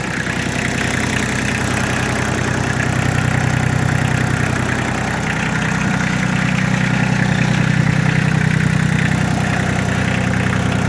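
A Kubota L1-802DT 4WD mini tractor, fitted with a soil tiller, idles with a steady, loud engine chug that holds an even rhythm throughout, close by and with no one talking.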